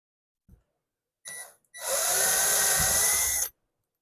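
Power drill boring holes for a shower-room door hinge inside a campervan: a short burst, a brief pause, then one sustained high whine of about two seconds, close and loud in a quiet space.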